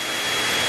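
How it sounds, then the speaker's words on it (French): A hair dryer blows in a steady, loud whooshing roar, aimed at chocolate to melt it. "je vais le faire fondre avec un sèche-cheveux"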